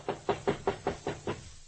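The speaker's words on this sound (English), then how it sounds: "A knock on the door produced results." Someone knocks on the door of hotel room 672 with seven evenly spaced raps, fairly soft and close, with nothing else heard.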